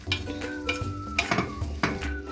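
A vegetable Spanish omelette being loosened from its pan with a utensil, giving repeated scraping and knocking strokes over a faint sizzle, close and fairly loud, with no talk.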